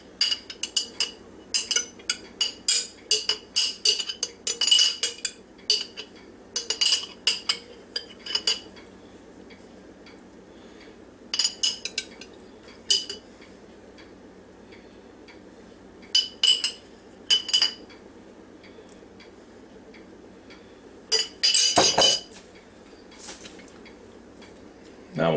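A metal spoon clinks and scrapes against the inner pot of an Instant Pot Duo Crisp while scooping out mac and double cheddar, in irregular bursts of close, bright scraping with quiet pauses between.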